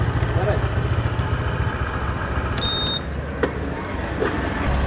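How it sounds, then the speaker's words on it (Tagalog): A motorcycle sits idling close by with a steady low engine rumble, while people talk over it and a brief high electronic beep sounds midway. "Kapopogi naman ang motor na to."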